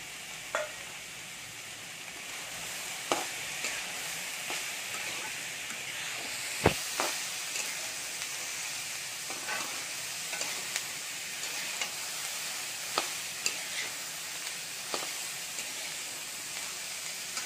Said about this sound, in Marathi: आपल्या सगळ्या भाज्या तेलामध्ये चांगल्या फ्राय करून झालेल्या आहेत